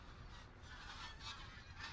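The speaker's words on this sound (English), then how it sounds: "There's a massive flock of geese going overhead." A large flock of geese honks continuously overhead, a distant, steady wash of overlapping calls with no talking.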